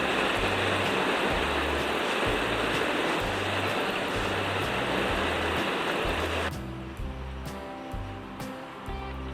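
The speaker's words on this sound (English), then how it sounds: "The rain's started to ease off now." Steady, dense rain hisses across the whole stretch, loud at first, then thinning and softening near the end as a low rhythmic thumping continues underneath.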